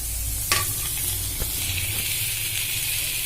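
Steady loud sizzling of chopped ginger, garlic and chilli frying in hot oil, with a couple of brief clinks from stirring near the start.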